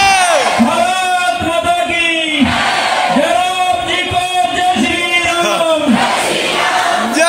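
A large, dense crowd shouts and chants loudly at a public appearance by actress Kangana Ranaut. Voices swell in repeated rhythmic bursts close by, with no pause across the whole stretch.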